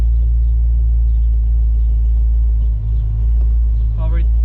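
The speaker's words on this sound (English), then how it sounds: "we're gonna go ahead and do the first test drive here on the Cobra" A 1995 Ford Mustang Cobra on its first test drive gives a loud, steady low engine rumble from inside the car, dipping slightly near the end, with a brief squeak at the close.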